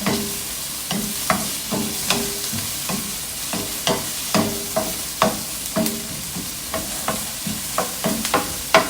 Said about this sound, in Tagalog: Labasin muna natin ang katas ng sibuyas.